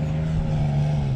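An off-road 4x4 engine drones at a steady, loud, close-up pitch during an extreme off-road climb in Baku, holding an even roar throughout with no pauses.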